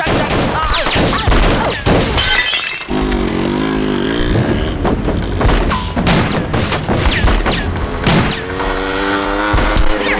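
Gunfire rattles through a Hindi-dubbed action film gun fight staged like a stunt show, loud and dense bursts layered with music and effects across the whole stretch.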